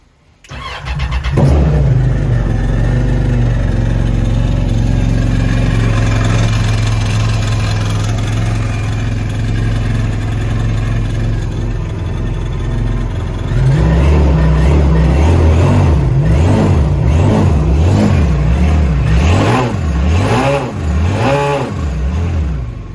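A mini jet boat engine, fed by a garden hose, cranks and catches, settles into a loud rough idle, then is revved repeatedly in strong rising and falling bursts up close.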